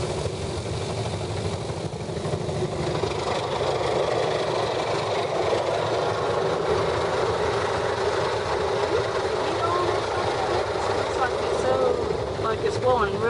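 A car wash dryer blower at a Ryko automatic car wash roars steadily for several seconds, loud and constant, with a car engine still running underneath.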